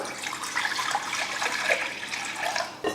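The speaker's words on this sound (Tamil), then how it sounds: "ஒரு கடாய் வச்சுருக்கேன் அதில் வந்து ஒன்றரை கப் அளவுக்கு தண்ணி ஊற்றிக்கலாம்" Steady rush of about one and a half cups of water pouring and splashing into a kadai, continuous and close, with no voices.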